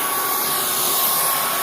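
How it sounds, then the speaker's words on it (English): A Proscenic cordless vacuum cleaner running indoors, its loud, steady whirring motor drone continuous and close with a faint high whine on top. "Here, I'm gonna let you vacuum with it."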